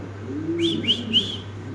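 A few short, bright bird calls repeat in quick succession over a low hum, with a soft pigeon-like coo underneath, at a pigeon sale.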